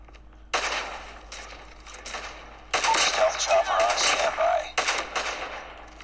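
Gunfire in the Call of Duty video game: bursts of rapid automatic shots with short gaps between them, close and fairly loud, followed by a longer sustained volley.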